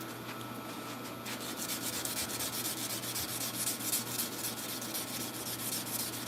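Sandpaper of 220 grit rubs over a sword blade in quick, steady back-and-forth hand strokes, a close, rhythmic scratchy rasp that picks up pace after a brief start.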